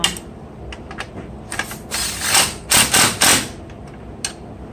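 Ratchet wrench tightening down the battery holder on a Nissan Versa during a battery replacement, heard as close, bursts of rapid clicking. Short isolated clicks build to several longer, louder stretches of ratcheting.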